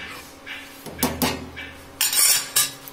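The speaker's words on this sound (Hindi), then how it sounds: "हम चावलों को बार बार चलाकर चेक कर रहे हैं" A spoon stirring rice in a metal cooking pot, a few scraping and clinking strokes, close and moderately loud, in irregular bursts.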